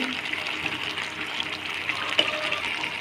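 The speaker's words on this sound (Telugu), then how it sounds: "గ్లాసు మంచి నీళ్ళు పోసుకుంటున్నానండి" Water poured from a glass into a simmering chicken curry, a soft continuous splashing gurgle at low level with no talking.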